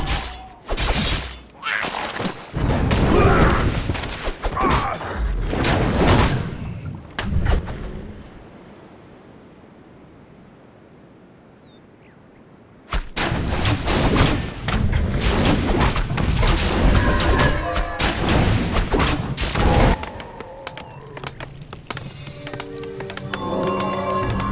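A WarCraft 3 battle with forces under attack brings dense, loud clashing and impact bursts, then a quiet lull of several seconds, then more sustained fighting noise to the end.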